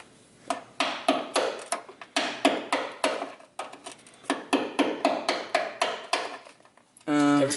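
Rapid metal hammer taps drive a brake line retaining clip into place while a Stoptech stainless steel brake line kit goes onto a Ford Fiesta ST, about twenty close, sharp strikes in uneven bursts before a different steady noise at the end.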